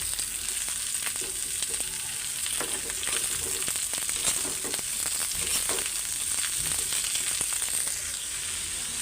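Leafy greens fry in hot oil in a pan with onion that has already browned, a continuous bright sizzle with scattered crackles and stirring scrapes, steady and close with no talk.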